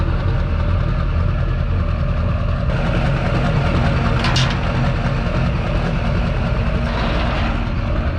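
Truck with a stock LB7 diesel idling at a truck show, a heavy, continuous low-pitched rumble up close, with a brief hiss partway through and the drone holding steady to the end.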